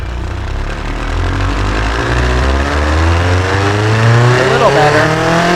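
A car engine in the driving game Automation, a loud steady drone with harmonic whine that rises gradually in pitch as it revs, heard close and alone.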